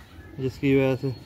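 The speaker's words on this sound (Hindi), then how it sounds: "ये कबूतर है" A female Teddy Golden Sialkoti cross pigeon gives a short, close coo in a few throaty pulses, heard alongside someone speaking.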